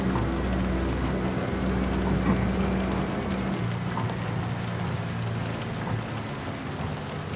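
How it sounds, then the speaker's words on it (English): Continuous rain hisses steadily in the video game American Truck Simulator over a low truck engine drone that drops away partway through. "It's raining, Ty."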